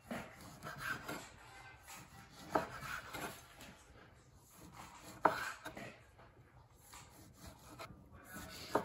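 A knife slicing fresh tomatoes on a cutting board for a caprese salad, faint irregular rasping cuts and soft board taps spread over several seconds, with no talking.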